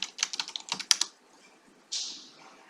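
Keys on a computer keyboard are tapped in a quick burst of about a dozen close, crisp clicks, then stop, followed by one short soft swish.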